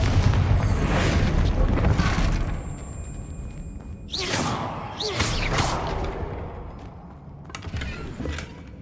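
The Confringo fire spell in Hogwarts Legacy lands as a series of booming blasts with whooshing, crackling bursts, loud and close, separated by short gaps, over a rumbling game soundscape.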